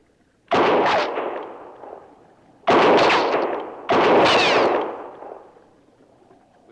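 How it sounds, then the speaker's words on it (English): Three loud, sharp gunshots ring out in a radio drama, each with a long echoing decay, spaced unevenly with a longer gap before the last two. "Maybe my shots will get a little closer to you from time to time."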